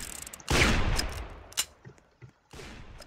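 Gunshots in the Roblox game Mad Murderer, a loud blast followed by quieter scattered shots and a second burst near the end, with little else around them.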